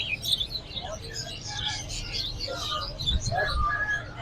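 Ringneck parrots and other birds at an outdoor bird market give scattered faint chirps and calls over a low background murmur that may include voices.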